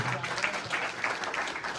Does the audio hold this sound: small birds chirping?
no